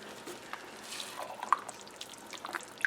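A little water swirls and sloshes inside an empty jar in a kitchen as it is rinsed, with faint intermittent drips and splashes, quiet and close.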